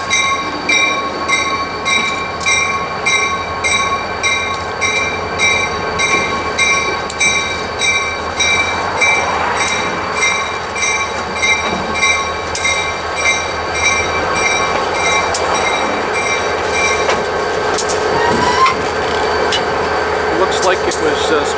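A short NYS&W freight train with boxcars rolls slowly along the Utica branch, with steady wheel clatter, metallic squeals and a constant engine hum, loud and close.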